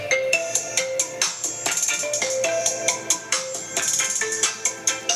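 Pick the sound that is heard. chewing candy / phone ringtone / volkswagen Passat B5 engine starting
phone ringtone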